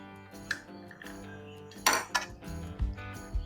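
Knife strokes on a cutting board while halving cottage pie potato bombs, with clinks and clatter of utensils and dishes, a sharp louder cut near the middle and a few softer knocks after, close and without talk.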